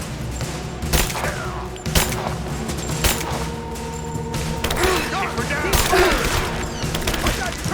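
Pistol fire in Rise of the Tomb Raider, with several sharp shots spaced about a second apart among loud battle noise, clattering mechanisms and creaks. A voice is present faintly in the mix.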